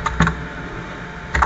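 Computer keyboard keys tapped in two short bursts, a quick cluster near the start and another near the end, with quiet room tone between.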